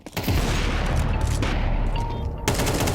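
Rapid gunfire in a Counter-Strike esports match, a continuous loud burst of shots with a sharp louder volley near the end.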